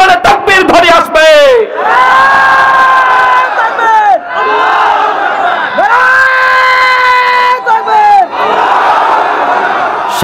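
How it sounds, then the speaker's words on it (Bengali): A large crowd chants takbir in unison, loud and close, with several long drawn-out collective shouts rising and falling in waves, mixed with scattered individual cries. "প্রত্যেকের জবানে তাকবীর ধ্বনি আসবে"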